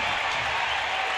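A dense, steady roar from a large indoor basketball arena crowd cheering a dunk, loud and continuous throughout with no breaks.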